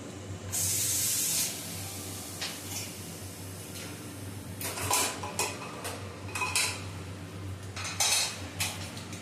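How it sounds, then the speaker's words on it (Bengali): Pieces of mutton dropped into hot oil for biryani give a sudden loud hiss up close, then a steady sizzle with repeated clinks and scrapes of a spoon against the pot. "এবার এই তেলের মধ্যে আমি মাংসটা দিয়ে দেবো। মাংস একটু কষানো হয়ে যাবে।"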